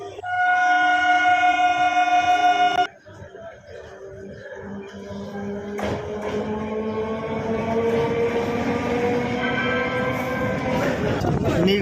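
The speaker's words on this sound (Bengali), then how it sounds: "আমাদের ট্রেন লক্ষ্মীকান্তপুর স্টেশন ছাড়ল" A loud, sustained train horn blares, then stops, and a rumbling, rattling train gradually builds as it departs Lakshmikantapur station toward Namkhana, with clanking wagons.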